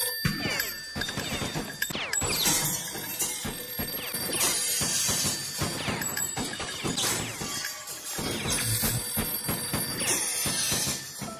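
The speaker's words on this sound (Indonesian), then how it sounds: "telepon masih terus berdering" A telephone keeps ringing amid loud crashes and shattering bursts in a tense scene from a Thai thriller film, the rings layered with repeated impacts throughout and no talking.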